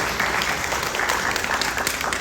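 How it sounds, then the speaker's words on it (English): An audience at a 2026 candidate forum claps, a dense patter of many hands that holds steady for about two seconds at moderate volume, with no talk over it. "You may applaud after these questions."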